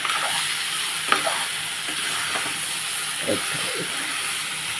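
Raw banana kurma, coated with ginger-garlic paste and onion, is stirred in a pan over steady sizzling, with a few scraping strokes of the spoon against the pan standing out close by.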